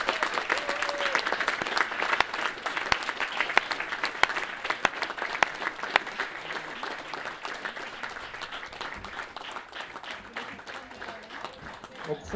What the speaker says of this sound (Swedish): Så ge en stor och varm applåd till Ronny Eriksson.